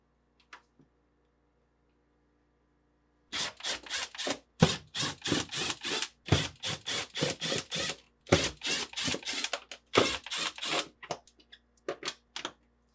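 A 1/4 inch nut driver turns out screws from a GE refrigerator's fresh food evaporator cover, making bursts of close, rhythmic ratcheting and scraping clicks after a quiet start, with no talking.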